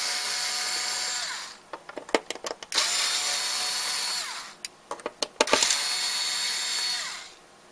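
Screws being driven out of an Arcade1Up Centipede cabinet with a power driver, in long steady whirring runs broken by clicks and clatter, close and loud.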